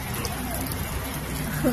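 Heavy rain pours onto concrete roads in a steady, dense hiss that runs unbroken throughout, with a faint voice-like sound near the end.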